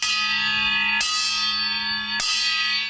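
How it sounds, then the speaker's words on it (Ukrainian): A deep memorial bell tolls for fallen soldiers with long ringing overtones, struck again about a second later and once more near the end, each strike loud and lingering. "Це символічний дзвін за кожним полеглим за Україну жителем міста"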